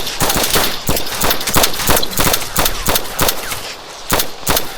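Rapid gunfire in the video game DayZ, a steady string of sharp, loud shots fired in quick succession, close and without pause.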